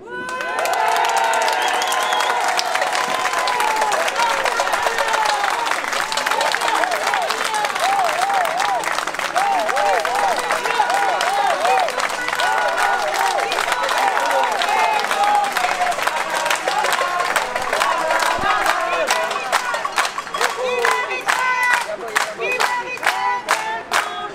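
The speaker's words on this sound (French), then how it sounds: "Je voudrais qu'on applaudisse le corps médical pour tout ce qui s'est passé pendant le confinement." At a rally outside Huriez Hospital in Lille, a large crowd applauds the medical staff with sustained clapping, cheers and shouts, and rhythmic chanting voices rise through the long, loud ovation.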